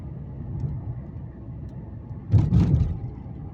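Low steady car rumble from inside a vehicle driving to work on a cool February morning, with a brief louder burst of road or passing-traffic noise near the end.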